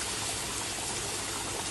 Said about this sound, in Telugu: సో గైస్ కొంచెం లైట్ గా వాటర్ వేస్తున్నా.